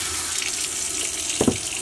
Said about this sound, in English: Open up a line, see if water starts coming out.